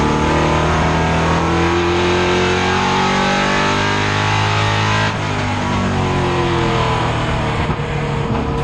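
Late model stock cars racing at Stafford Motor Speedway, a loud continuous engine roar with pitch sliding as cars pass close by, sustained without a break.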